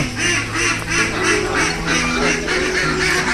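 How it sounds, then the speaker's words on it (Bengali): Ducks quack repeatedly in a close, loud, overlapping chorus of nasal calls, with a dense background of animal noise and no clear talking. "এখানে রেখেছে হাঁস।"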